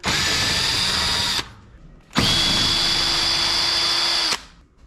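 Cordless power drill driving out two Phillips head screws from the back panel of a Whirlpool washer, two steady whirring bursts of about one and two seconds separated by a short pause, close and loud.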